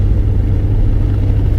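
Chrysler K car engine revving hard after a transmission kickdown, a steady loud low drone held close and constant with no talk over it.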